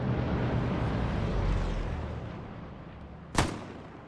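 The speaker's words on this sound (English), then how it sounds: "Trying to see where that MG's firing." Gunfire in a Foy scrim match of a multiplayer war game, where a machine gun is firing: a continuous low battle rumble runs throughout, broken near the end by one sharp, loud shot.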